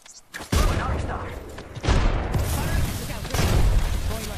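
Gunfire and explosions in the battle royale shooter Apex Legends, with several loud bursts of shots and booming blasts arriving in separate waves, close and heavy, with game noise between them.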